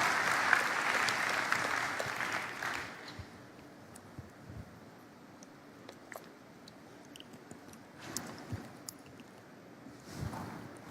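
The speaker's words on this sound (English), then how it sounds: "Yeah, that's worth a round of applause." Keynote audience at a corporate software conference applauds, a brief burst of clapping at the start that fades into a quiet hall with scattered faint knocks and rustles.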